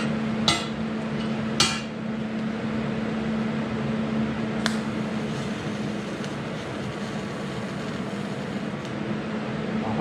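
A TIG welder running at 100 amps and melting straight through a metal piece gives a steady electrical hum throughout. Two sharp metallic clanks come early and another follows a little later.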